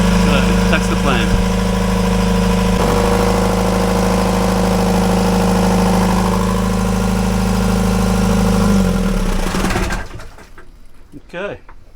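A yacht's marine engine idles steadily, a loud close low rumble with a constant droning hum, then shuts down and falls quiet near the end.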